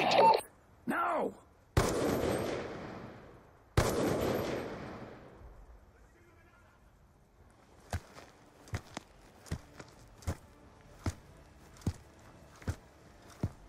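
Gunfire in Call of Duty Black Ops II: a few heavy, loud shots and booming blasts early on, then a quieter series of evenly spaced single shots cracking out alone.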